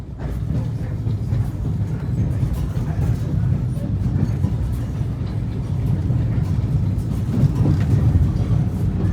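Steady low rumble of a passenger train on the Tennessee Railroad's Copperhill Special rolling along the rails, continuous and fairly loud throughout, with faint clatter and no clear speech.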